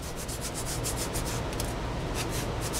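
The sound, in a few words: sanding a radius on a seat with 150-grit sandpaper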